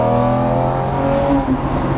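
A Lamborghini Murcielago sports car engine rumbles loudly and steadily, a deep continuous drone with a slight rise in pitch, heard up close.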